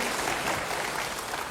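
Church congregation clapping in praise, a full, dense round of applause that holds steady and then eases slightly, with no talking over it.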